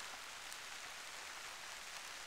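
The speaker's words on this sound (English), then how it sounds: "It's raining out right now," Light rain falls steadily outdoors at a garden plot in January, an even, faint hiss of drops with no distinct pattern and no voices.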